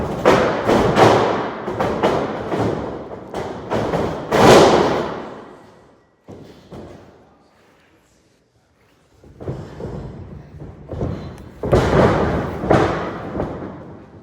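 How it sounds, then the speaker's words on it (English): Martial artists spar and slam onto a mat, a string of heavy thuds and thumps in two loud bursts with a near-silent pause between them. "when they hit the mat, it's going to get loud"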